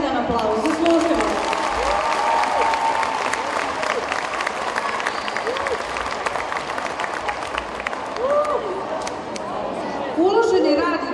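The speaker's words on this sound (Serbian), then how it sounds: "Ja vas molim za još jedan aplauz." A concert audience at a folk ensemble's anniversary show applauds steadily, a dense roar of clapping with some crowd chatter, while a voice speaks over it intermittently.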